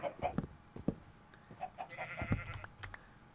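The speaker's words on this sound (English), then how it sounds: "sheep is trying to get out pretty severely right now." Sheep in a video game farm pen bleating repeatedly in short wavering calls, mixed with speech.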